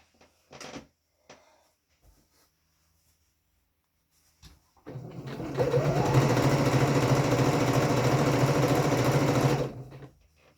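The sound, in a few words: sewing machine stitching a waistband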